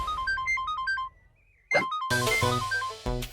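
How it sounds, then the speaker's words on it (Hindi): Mobile phone ringtone for an incoming call, a bright repeating electronic melody that pauses briefly after a swoosh, then resumes loud and close with a fuller, denser tune. "हाय काली नागिन का फोन।"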